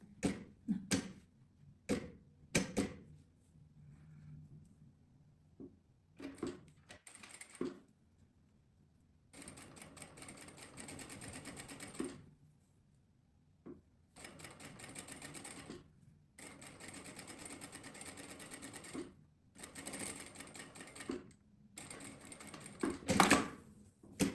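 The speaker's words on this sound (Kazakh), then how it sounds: "осы астар бетін барлығын ішіне қаратып, мына қалтамыздың үстінен жүргізіп тігіп шығамыз" A sewing machine stitching lining over a pocket while sewing a shirt and skirt, fast mechanical whirring runs of varying length broken by pauses and a few clicks and thumps, close and moderately loud with no talk.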